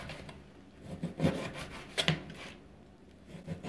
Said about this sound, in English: when I'm cutting pork belly, I always have the rind side down